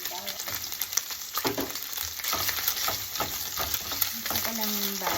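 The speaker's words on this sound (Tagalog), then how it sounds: "Then, ilagay ko yung bawang." Garlic sizzles steadily in a hot pan for adobong string beans with pork, a continuous crackling fry with occasional stirring scrapes and no voices.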